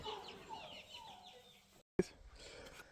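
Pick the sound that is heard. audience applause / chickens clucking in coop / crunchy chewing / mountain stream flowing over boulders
chickens clucking in coop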